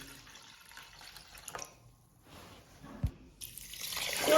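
Rice for homemade rice cakes is rinsed in water, giving quiet sloshing, soft drips and trickles with a brief splash near the end, close and faint.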